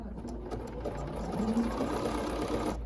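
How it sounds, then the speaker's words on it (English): A Bernina 790 Plus sewing machine whirs steadily and close as it stitches across to attach a button, a continuous mechanical hum with no talk. "what we're gonna do is we're just gonna stitch across"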